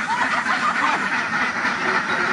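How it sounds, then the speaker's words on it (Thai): A crowd of startled ducks quacks loudly and continuously during egg collection, a dense overlapping din of many birds close by with no pauses. "นี่นะครับเขาเรียกว่าอาการเป็ดตื่นนะครับไม่ใช่ไก่ตื่น"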